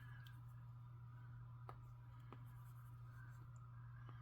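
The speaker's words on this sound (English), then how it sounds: "I'm just writing" Pen scratching across paper while filling in a budget savings book, faint soft strokes and light ticks over a steady low hum, with no talking.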